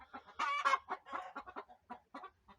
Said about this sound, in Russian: Куры сели парить яйцо.